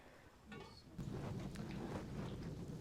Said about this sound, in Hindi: बारिश जो है वो काफ़ी ख़तरनाक लग रही है, क्योंकि बादल इतने ज़्यादा गरज भी रहे हैं और बारिश भी शुरू हो गई